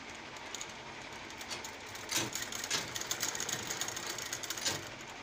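A sewing machine stitching after a tension adjustment runs as a continuous, fairly faint mechanical whir with light ticking, growing slightly louder midway.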